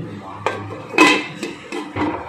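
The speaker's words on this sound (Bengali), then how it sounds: "আমি একটা ঢাকনা চাপা দিয়ে দিচ্ছি।" A metal lid goes onto a cooking pot holding a little water for a steamed fish dish, giving several sharp clanks and clatters in a quick, uneven sequence at close range.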